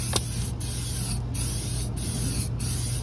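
Aerosol can of Amsoil HD Heavy Duty Metal Protector undercoating sprayed under a car, a close steady hiss broken by short pauses as the nozzle is released and pressed again in repeated bursts.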